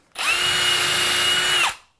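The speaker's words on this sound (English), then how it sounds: "Pre-drill this." A power drill spins up sharply and whines steadily for about a second and a half while pre-drilling a hole in a Johnson Hardware pocket door frame kit, then winds down; close and loud with no talking.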